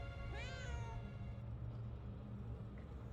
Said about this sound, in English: Shoo, cat, get out of here.